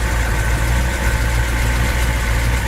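A 1959 Ford Thunderbird retractable's V8 idles steadily up close, a smooth low rumble with a constant even tone throughout.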